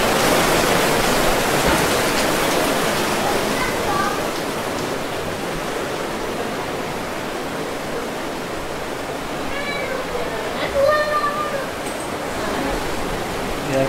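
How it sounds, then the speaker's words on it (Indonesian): Heavy rain pours steadily as a dense, constant hiss at a hotel in Tawangmangu, filling the whole stretch with little variation while faint voices come and go underneath. "Sampai sini hujan deras."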